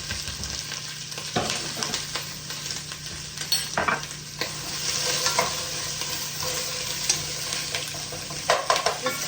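Wontons sizzle in a lidded pan while being tossed around, with steady frying hiss broken by a few clanks and scrapes of utensil against metal.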